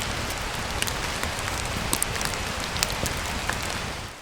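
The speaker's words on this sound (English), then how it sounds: "it's actually raining" Steady rain falls during a September backpacking trip in the Great Smoky Mountains, a dense, even hiss with scattered sharper drop hits, close and continuous throughout.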